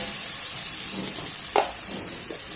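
Chopped vegetables and tomato pieces frying in a pan for poha upma, a steady close sizzle with a few brief stirring scrapes.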